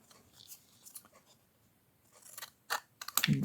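Scissors cut paper into pieces at close range, giving a few quiet snips early and then sharper, louder crisp cuts toward the end.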